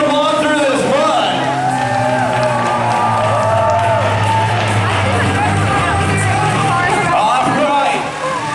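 A crowd shouts and cheers for a truck struggling through a mud pit, with voices rising over a loud, steady engine drone.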